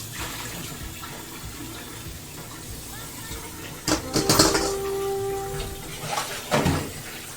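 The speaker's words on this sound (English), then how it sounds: "It means I do a lot of dishes." Water runs into a kitchen sink as dishes, pots and cutlery are washed by hand, a low steady wash broken by a few louder bursts of clattering and splashing near the end.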